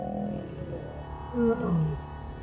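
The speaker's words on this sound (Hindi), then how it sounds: "दूसरे शेर पर हमला करते वक्त किंकी टेल भी दहाड़ रहा था।" Lions roar while fighting in the wild at Sabi Sand, a deep, rumbling roar swelling twice in the middle, fairly close and loud over a low background.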